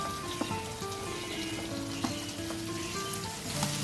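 Raw banana pieces and green beans sizzling in hot oil in a pan for an onion- and garlic-free vegetable dish: a steady, crackling frying hiss with small pops, close and even throughout.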